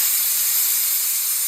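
Pressure cooker on the stove venting steam while boti (goat tripe) cooks, a steady, loud, even hiss that runs unbroken through the whole moment with no voices.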